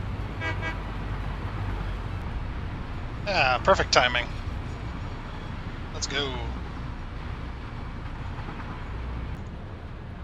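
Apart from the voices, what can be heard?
train horn and train rolling in Satisfactory video game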